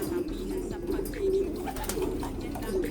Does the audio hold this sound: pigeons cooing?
yes